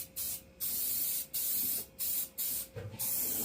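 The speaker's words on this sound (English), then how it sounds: "Just want to get some coverage on it. We can do multiple coats." Paint spray gun bursts onto a 1997 Mustang GT door panel: five or six short hissing passes, each about half a second, separated by brief pauses, loud and close with no talking.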